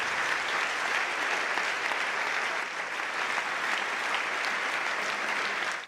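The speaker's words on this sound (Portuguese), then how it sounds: "Se quiser pode aplaudir o Senhor" Dense, steady applause from a church congregation praising the Lord, a continuous wash of many hands clapping close and loud for several seconds, then cutting off abruptly.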